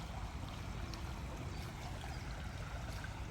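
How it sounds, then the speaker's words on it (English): Water in a river flowing past the bank, a quiet, continuous wash and trickle at low level with no voices over it. "And I see the flowing water."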